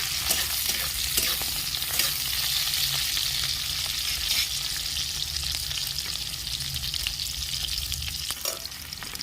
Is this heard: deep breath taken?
no